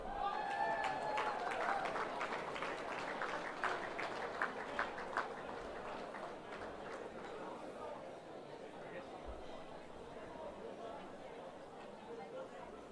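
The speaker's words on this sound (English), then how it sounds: "A big round of applause to our leading goal kickers in both senior men's and senior women's competitions." Audience applause at a football and netball league awards night starts dense and close, then thins out and fades to a softer patter and chatter while people talk over it.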